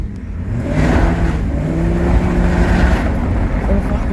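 A car engine revs and surges loudly at close range for a few seconds, with a voice partly audible underneath, in a yard where a turbo Nissan Exa and a V8 Ford are being shown.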